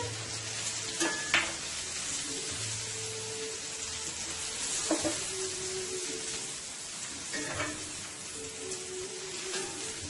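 String beans and garlic sizzle steadily in a hot pan, a dense continuous crackle with occasional sharper pops and light clinks of stirring, close and even throughout.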